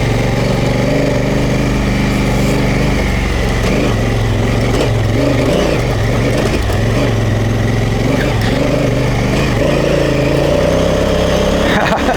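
A Honda Africa Twin motorcycle engine idling on a forest track, a loud, steady, close throb with slight wavering in pitch throughout.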